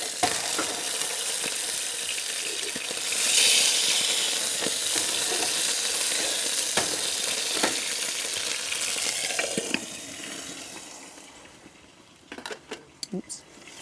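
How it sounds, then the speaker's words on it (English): A cut of meat wrapped in a bacon strip fries outdoors, giving a loud, steady sizzle that holds for about ten seconds, then fades as a few clinks and scrapes follow. "Got a nice cut of meat. It has a strip of bacon on the outside. So cooking that first."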